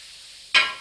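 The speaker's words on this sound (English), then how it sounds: "2 scoops of salna will do, and then mix it up." Salna ladled into kothu parotta in a hot pan, a sudden loud close sizzle that bursts out after near silence and then gradually fades.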